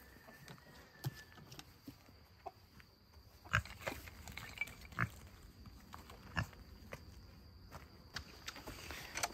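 Faint pig grunts and snuffles from a pig in a chicken run, mixed with scattered soft footsteps and rustling in a quiet outdoor setting.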